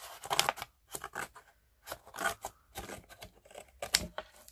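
Repeated crisp snips of scissors cutting through a book binding, close by, in an uneven series of short cuts.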